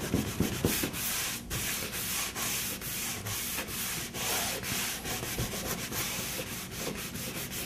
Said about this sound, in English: I'm gonna take a clean rag, rub it hard on there and get a good bit of that off.